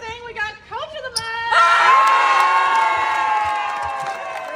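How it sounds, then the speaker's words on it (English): Crowd breaks into loud cheering, whoops and applause for a women's basketball Coach of the Month award, rising sharply after brief shouting voices and sustained as a dense, near roar. "notice the difference in the applause from Stephanie White winning Coach of the Month versus Caitlin Clark winning Player of the Week"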